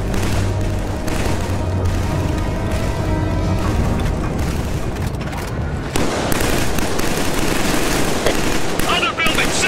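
Killzone 3 on the PS3 fills the scene with heavy video-game combat: sustained automatic gunfire, sharp shots and deep explosive booms layered densely throughout, loud and chaotic.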